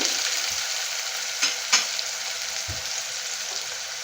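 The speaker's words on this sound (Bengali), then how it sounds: "পেঁয়াজটা হালকা করে লাল লাল করে ভেজে তারপরে আমি অন্য মশলাগুলো দিতে থাকবো" Onions fry in oil and are stirred in a pan for a Bengali rui posto fish dish, a steady close sizzle with a few scraping stirs of the spoon, no talk.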